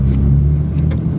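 A Nissan Skyline R34 GT-R drives along, its engine a loud, steady low rumble heard close up without talk.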